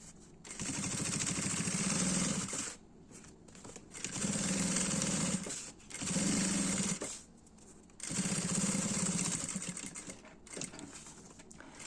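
A sewing machine stitches a baby toiletry bag in four loud, steady whirring runs of a couple of seconds each, separated by short pauses.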